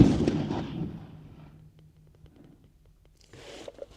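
A single loud blast from an AK-50 rifle during a recoil spring test opens the sound and fades into a decaying rumble, followed by quiet and a short metallic rattle near the end.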